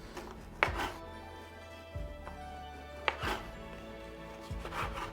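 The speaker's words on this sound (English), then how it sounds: "we're gonna start by trimming off the crust with that scary ass Tojiro bread knife" A Tojiro bread knife trims the crust off white bread: four or five short, sharp cuts with crisp crackling, close and clear, spaced about a second apart, with faint kitchen hum underneath.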